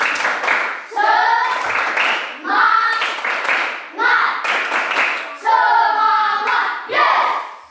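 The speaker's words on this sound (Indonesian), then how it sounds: "Tepuk semangat" A classroom of pupils performs a rhythmic spirit clap in short patterned bursts, mixed with chanting voices, loud and close throughout.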